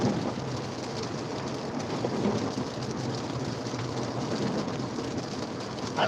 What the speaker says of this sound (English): The storm's already here